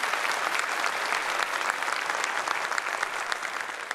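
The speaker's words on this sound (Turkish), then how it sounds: "Alkışlıyoruz hafızımızı ya" An audience at a Quran recitation competition applauds a 16-year-old hafiz, a continuous crowd of hands clapping at an even level throughout, with no talk over it.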